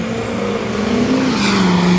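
A 6.7 liter Ford F-250 pickup launches at a drag strip, its loud engine note rising steadily in pitch as it pulls hard, close and continuous with no talk.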